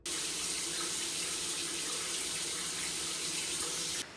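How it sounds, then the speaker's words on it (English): Water from a home shower runs in a steady, loud hiss that continues for several seconds before dropping off slightly at the end, with no talking. "I'm about to get in the shower now."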